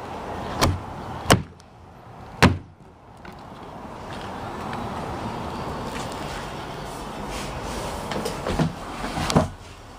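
The door of a mini tiny home on wheels shuts several times in a build space, with sharp, close thuds spaced apart over a low background hum.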